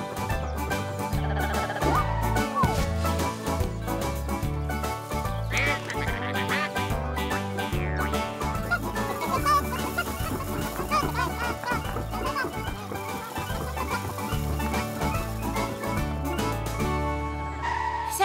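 Ducks quacking and chickens clucking on a farm, heard as bird calls mixed into a dense, continuous music track that plays loudly throughout.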